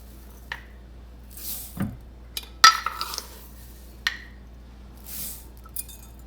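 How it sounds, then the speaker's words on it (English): Basmati rice being rinsed in a bowl: sporadic soft squishes, light clinks and watery splashes come in scattered moments over a quiet background, with no talking. "take the rice and just give it a really good rinse"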